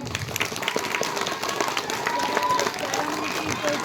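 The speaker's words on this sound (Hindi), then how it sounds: "एक बार टीचर्स के लिए ताली लगाओ" Children clapping for their teachers at a school gathering, a busy patter of many small hands at moderate volume, with some voices mixed in.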